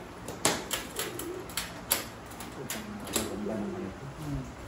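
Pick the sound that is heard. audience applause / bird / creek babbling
bird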